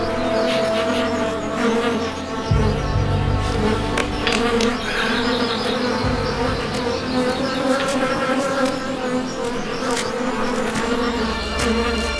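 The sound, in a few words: flies buzzing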